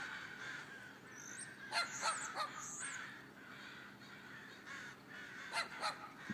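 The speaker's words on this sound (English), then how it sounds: "They look like crows." A flock of crows in and around a tree, caw after caw in scattered bursts, some close together and some farther off, against a quiet outdoor background with no talk.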